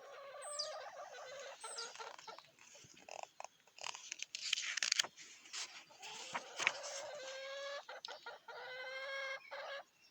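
Several hens cluck and chatter close by, a busy run of short squawks and rising calls, fairly quiet overall with no talking.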